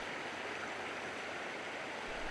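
Mountain creek water flowing steadily over rocks among mossy banks and ice sheets in winter, a continuous broadband rushing wash, close and even, with no voices.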